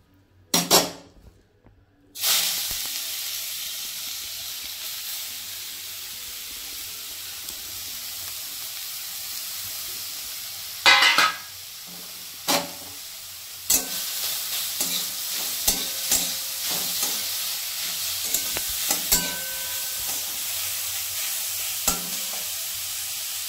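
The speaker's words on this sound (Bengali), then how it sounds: "এখন মিষ্টি কুমড়োটাকে আমি ছেড়ে দিচ্ছি।" Grated sweet pumpkin drops into hot oil in a wok and bursts into a loud, continuous sizzle after a brief quiet start, with sharp scrapes and clacks of stirring against the pan throughout.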